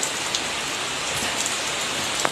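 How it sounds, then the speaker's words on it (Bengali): Heavy rain pours down outside in a dense, continuous hiss, with a few louder drips and splashes standing out against the steady wash. "বাইরে ভীষণ হারে বৃষ্টি হচ্ছে"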